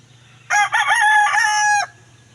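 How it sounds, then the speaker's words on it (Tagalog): A single rooster crows loudly and clearly, heard from a rooftop, one drawn-out call lasting over a second against a quiet background hum. "makinig sa mga tunog ng mga ibon"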